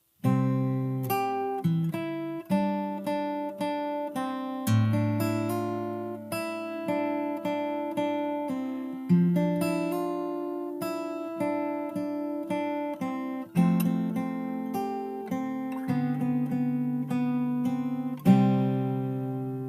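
Fingerstyle acoustic guitar plays a post-chorus passage alone, with plucked notes and chords ringing in a steady rhythm and fresh strums marking each phrase.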